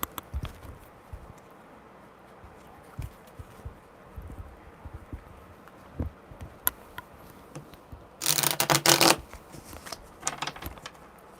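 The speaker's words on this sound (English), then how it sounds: "All right, one more good shuffle." Tarot cards being shuffled at a live reading, with soft scattered riffles and taps and then a louder burst of riffling near the end.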